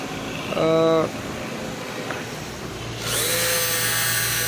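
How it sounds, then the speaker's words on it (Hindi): A rewound juicer motor spins up in a workshop, giving a brief high whine and then a steady, rushing mechanical hum. "और यूँ मोटर जो है उसके आरपीएम भी ठीक है"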